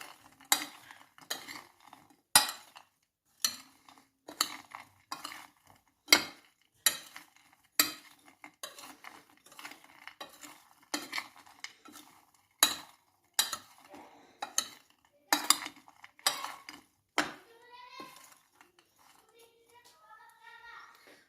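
Metal utensils stir spices, including red pepper flakes, into a dish of Albanian-style liver, giving a close run of sharp clinks and scrapes against the pot at an irregular rhythm, then thinning toward the end.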